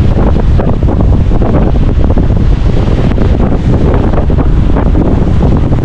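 Strong, cold night wind in Cape Town buffets the microphone in loud, continuous gusty rumbles, with no one speaking.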